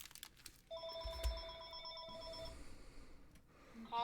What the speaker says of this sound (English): Excuse me. Phone call.